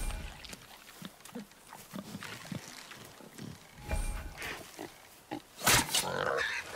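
A wild boar in the God of War video game grunts and squeals over a busy game soundtrack, with a sharp, loud burst near the end and scattered thumps throughout.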